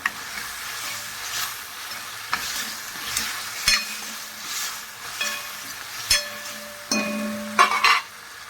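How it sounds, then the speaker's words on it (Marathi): Tomatoes with turmeric stir-fried in a pan, a steady sizzle under repeated spatula scrapes and sharp knocks against the metal, with no speech over it. "हळद टाकली आहे चांगलं दहा मिनटं परतून द्यायचं"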